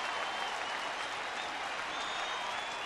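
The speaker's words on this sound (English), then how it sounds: "this crowd roars approval" A baseball stadium crowd at a Braves–Dodgers game roars and applauds in a steady, dense wash of cheering that holds at full strength throughout, with no clear talk over it.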